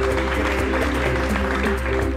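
An audience applauds at an educational event: dense, steady clapping from a crowd runs throughout over a constant low hum, with no speech.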